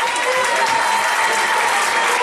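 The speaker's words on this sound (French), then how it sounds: "On peut les applaudir très très fort" A crowd at a Friday party event applauds the sponsors loudly, dense sustained clapping with some voices mixed in.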